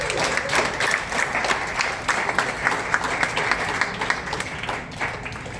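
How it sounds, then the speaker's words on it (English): An audience applauds the poet Paul Muldoon at the opening of the Himalayan Literature Festival, with steady, dense clapping from a medium-sized crowd and no talk over it. "let's give a big round of applause to Paul Muldoon"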